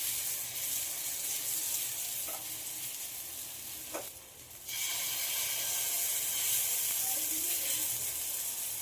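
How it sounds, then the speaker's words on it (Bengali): Vegetable batter sizzles steadily in hot oil in a pan, a dense, close frying hiss that briefly dips as the ladle drops in, then swells again. "তেলটা গরম হয়ে গেছে, এবার ব্যাটার থেকে এক হাতা তুলে দিয়ে দেব"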